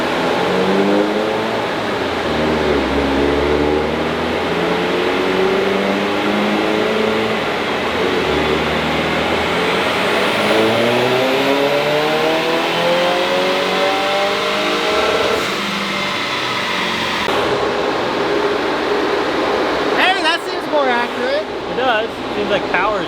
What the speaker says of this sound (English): Seems like power's down, but I can't rev it out.